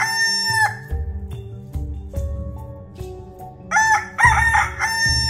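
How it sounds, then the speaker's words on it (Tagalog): A rooster crows from a forest at night, one drawn-out cock-a-doodle-doo near the start and a louder, fuller crow near the end, set against a soft musical backing. "may narinig siyang kakaibang tilaok mula sa gubat"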